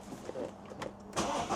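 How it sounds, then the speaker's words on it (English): A car engine cranks briefly and then catches, settling into a steady idle, heard fairly close and at moderate volume. "If we start the car up"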